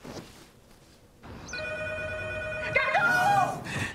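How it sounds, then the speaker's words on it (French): A telephone rings in a French domestic film scene, a steady electronic bell-like tone that starts partway through and continues loudly to the end, with a brief vocal shout overlapping near the close. "Téléphone!"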